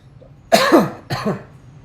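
Two close coughs in quick succession, the first harsher and longer, the second shorter, in an otherwise quiet room.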